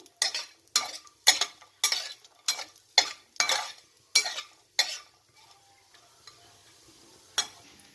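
Cashews frying in a small amount of oil are stirred with a utensil, making about ten rhythmic scraping strokes against the pan over a soft sizzle, then falling quiet apart from a final stroke.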